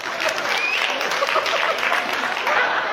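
A stand-up comedy audience gives steady, full applause for about three seconds, with scattered chuckles mixed into the dense clapping.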